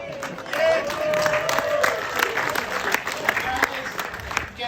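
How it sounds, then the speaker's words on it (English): Audience applause at a film premiere at the Museum of the Moving Image in New York, a steady crowd clapping with some cheering that carries on for the whole stretch, with voices mixed into the noise. "Get one last round of applause"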